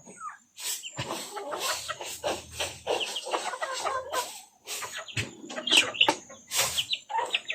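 Loud, close bird calls in a rural farmyard setting, repeated gobbling and clucking bursts with brief pauses between them, alone without talk.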